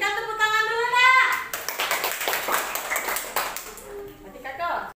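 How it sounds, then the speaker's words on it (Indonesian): Fourth-grade primary school pupils clapping together in a classroom, a burst of group applause following a voice, with talk resuming near the end. "Nah, berikan tepuk tangan dulu nak."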